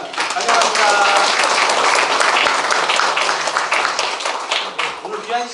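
Applause fills a town meeting with citizens in a hall, a dense, sustained clapping from the crowd lasting several seconds, with a voice briefly speaking over it.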